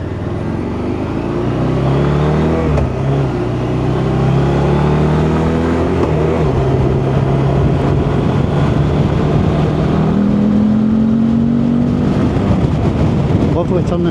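A Morbidelli T1002V big bike hums along on the road, a steady engine drone that rises and falls in pitch with the throttle, heard close under a rider's continuous talk and wind noise.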